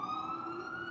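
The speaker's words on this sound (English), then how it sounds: "That's a siren going by." A wailing emergency siren, steady and fairly faint, sounding from a distance with no voices over it.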